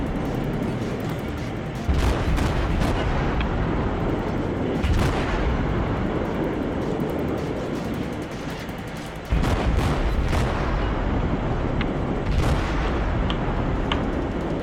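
Repeated heavy naval cannon blasts in World of Warships boom out every few seconds over a constant rumbling background, punchy and loud like game artillery fire.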